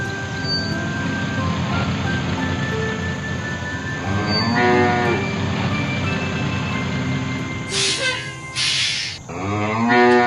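A cartoon cow in a children's farm cartoon moos loudly twice, long low drawn-out calls, with a brief high electronic tone sounding between them.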